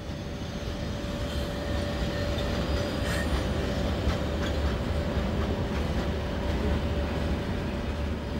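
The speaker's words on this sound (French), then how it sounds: "18h30, le convoi minéralier arrive enfin." A long mining ore freight train of 167 wagons rolls in, a heavy continuous low rumble with faint metallic clatter and squeals, steady and fairly close.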